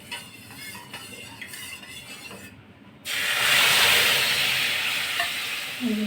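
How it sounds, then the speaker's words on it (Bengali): Hot tempering spices are poured into boiled mung dal. A few soft stirring clinks come first, then a sudden loud, hissing sizzle bursts out and slowly fades while still crackling. "ডাল সেদ্ধ হয়ে গেছে, এবার ফোড়ন দেওয়া হয়ে গেল"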